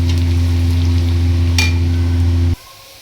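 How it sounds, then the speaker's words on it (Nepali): Garlic sizzling in hot oil for a momo achar, a steady loud fry with a low constant hum that cuts off abruptly near the end. "तेल पाकिसकेको छ। अब हामी लसुन हाल्छौँ, लसुन राख्छौँ। लसुनलाई एकछिन चलाउँछौँ"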